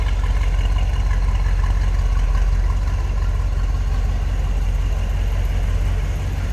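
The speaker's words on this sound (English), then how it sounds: "A little rumble coming out of that 350." Steady low idle rumble from the original, numbers-matching 350 V8 of a 1972 Chevrolet Corvette convertible, continuous and fairly loud throughout with no talking.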